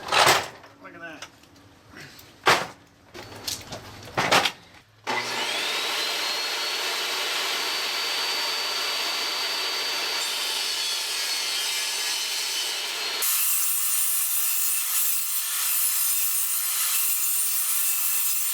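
A small DeWalt table saw spins up and rips through vinyl plank flooring. Handling clatter and a voice come first, then a loud, steady whine that deepens as the blade bites and continues to the end.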